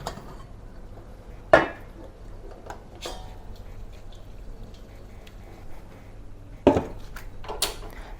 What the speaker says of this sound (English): let's remove it from the steamer